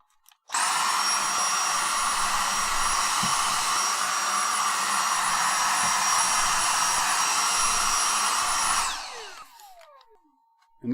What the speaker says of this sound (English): Okay, let's vacuum.